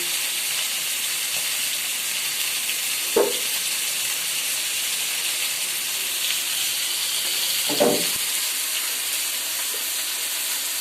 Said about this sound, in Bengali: কিছু মাছ ভাজা হয়ে গেছে আর কিছু মাছ